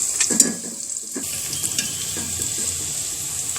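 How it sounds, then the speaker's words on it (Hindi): Cumin seeds fry in hot oil for an aloo pakori salan, a dense crackling sizzle with sharp pops early on, then settling into an even hiss. "ज़ीरा जाएगा, थोड़ी देर फ्राई करेंगे इसे हम"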